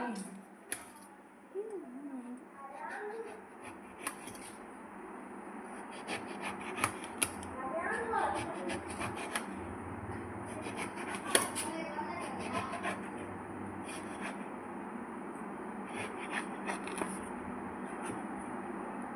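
A knife saws through a pomelo with faint, intermittent scraping and rasping strokes, quiet and close, with some talk around it.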